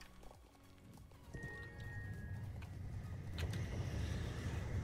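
Horse hooves clip-clop in the online horse-riding game Star Stable, a soft, steady rhythmic patter under a faint background hum, fairly quiet throughout and growing slightly louder toward the end.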